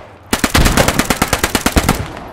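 Machine gun fire in the World War II shooter Post Scriptum, one loud close burst of about fifteen rapid shots lasting around two seconds, with no talk over it.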